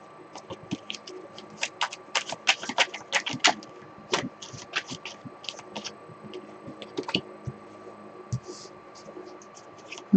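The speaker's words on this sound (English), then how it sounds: "Let's give it a good shuffle." A deck of tarot cards is shuffled close up, a dense run of quick papery flicks, riffles and soft slaps going on for several seconds at moderate loudness.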